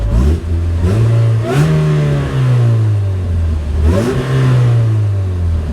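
A supercharged Chevy Cobalt SS engine revs hard and close, climbing and falling through several throttle blips over a steady idle drone, with the supercharger whine riding on top throughout.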